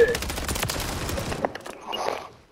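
Minigun fire in the Search & Destroy mode of a first-person shooter, a dense sustained burst of rapid shots that stops abruptly and gives way to quieter game noise.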